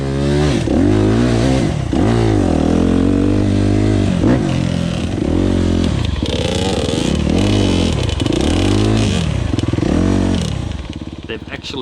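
A motocross bike, an RMZ250 or YZ85, revs repeatedly on an enduro trail, its engine note rising and falling in rapid surging sweeps, loud and close, with clattering over rough ground.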